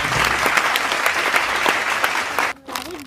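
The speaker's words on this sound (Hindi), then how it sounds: "गुड भाई, तालियां हो जाए" A small group claps in steady, dense applause during a spin-and-win challenge game, close and loud, and it stops abruptly near the end.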